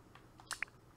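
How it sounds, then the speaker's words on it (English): A few keyboard keys are tapped on a computer, two quick clicks close together, faint and alone against a quiet room. "I'm just typing up some."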